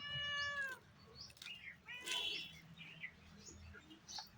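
A cat meows clearly in a village home, with a drawn-out call followed by shorter mews and faint bird chirps in the background.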